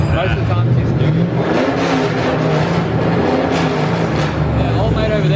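A drift car engine revs hard at a Queensland raceway, a loud sustained roar with rising and falling pitch, while people talk nearby.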